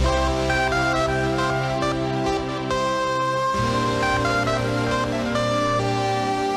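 A dense, eerie instrumental passage from a rare Minecraft music disc, with layered sustained tones and shifting notes, played continuously and fairly loud, with no voices.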